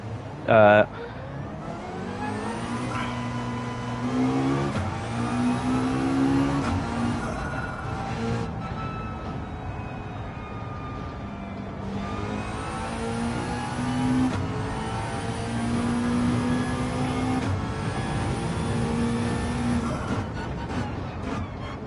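Race car engine in Gran Turismo 7 during a Gr.4 online race, a steady mid-pitched drone rising and falling through gear changes across the whole stretch, with someone talking over it.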